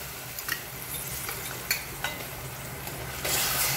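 Tomato paste added to ginger and garlic frying in a pan, a soft steady sizzle with a few spoon scrapes and clicks, then a sudden louder hiss near the end, with no talking.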